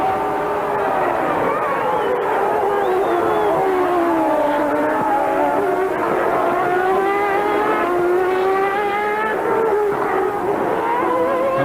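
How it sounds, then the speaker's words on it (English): Formula One Grand Prix engines, V10s from the Williams-Hondas and V12s from the Ferraris, roar continuously at high revs around the Mexican circuit, pitch rising and falling through gear changes as cars pass loud and close. "Glorious sounds from Grand Prix racing cars this year."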